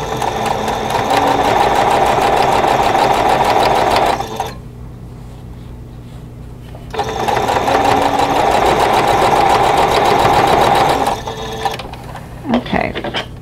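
A sewing machine stitches rows of pieces together for a quilt block, running loud and steady in two long bursts separated by a quiet pause, with a few soft handling clicks near the end.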